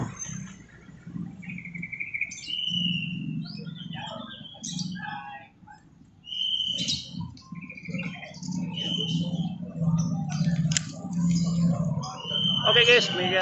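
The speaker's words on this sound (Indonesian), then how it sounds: "Jual-jual burung dong." Caged birds at bird sellers' stalls in Pasar Kanoman, a market in Cirebon, giving repeated bright chirps and whistled calls, some close, mixed with people talking and general market murmur.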